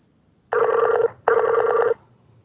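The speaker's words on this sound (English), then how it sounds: "Are you dialing on a rotary phone or something?" Telephone ringing in two long, buzzy bell bursts of about half a second each, separated by a short gap, loud and close over a quiet background.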